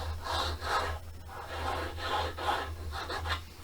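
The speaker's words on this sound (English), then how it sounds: "Burnish. Use this bone folder. Burnish some more." A bone folder burnishes glued paper while a box for a wedding mini album is assembled, giving a steady, soft rubbing rasp that sweeps back and forth in repeated strokes, close and continuous with no talking.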